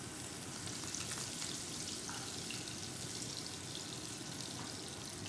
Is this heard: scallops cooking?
yes